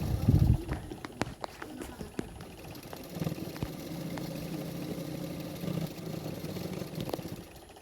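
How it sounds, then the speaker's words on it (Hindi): A sewing machine stitching the side seams of a katori blouse, a steady mechanical whirring run with rapid ticking, preceded by a few scattered clicks and handling noises. "तो दोनों साइडों में मैं फिटिंग के लिए इसी तरह से सिलाई कर लूँगी।"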